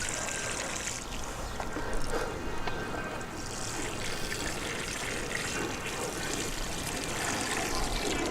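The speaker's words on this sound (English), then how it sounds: "we're just going to water this root zone here and water the mixture in real good" Water poured over the root zone of a transplanted tomato sucker plant in a soil mix with coconut coir, a steady trickling and splashing that holds evenly throughout, with no talking.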